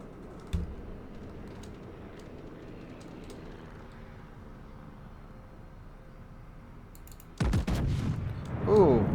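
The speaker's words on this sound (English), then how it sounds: "I like the sound of the guns though" Heavy warship main guns firing in the World of Warships naval game, an Ohio battleship, a loud booming salvo late in the clip after quieter engine and ambient rumble, with a second burst trailing off.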